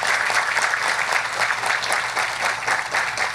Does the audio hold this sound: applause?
yes